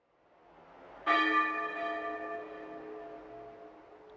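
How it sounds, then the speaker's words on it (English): Church bells ring out in the video game Overblood 2, in a place called East Edge on Christmas Eve: a single loud, bright strike that rings on and slowly fades, with no talking. "The bells are ringing in East Edge."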